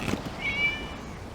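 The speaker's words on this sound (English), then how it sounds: "It was just a cat." A cat meows once, a single short rising call heard in the Genshin Impact video game over a soft, quiet ambient background.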